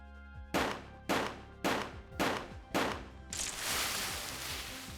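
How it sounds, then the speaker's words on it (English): In the video game Café Enchante, five rapid gunshots ring out in an evenly spaced series, each a sharp loud crack with a short decay, and a longer noisy burst of sound follows. "I hear 5 gunshots right after another."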